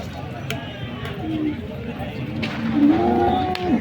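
Cattle moo several times nearby, low drawn-out calls rising over a busy crowd murmur of people talking at the Sangola cattle market.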